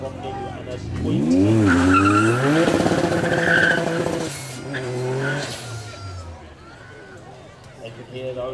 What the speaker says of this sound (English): You can hear those turbos whistling away.